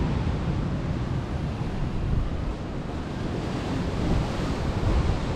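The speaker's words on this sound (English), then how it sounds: "Didn't expect the sea to be this angry" Rough sea waves churn and crash near a pier while strong wind buffets the microphone, a dense continuous roar with no talk.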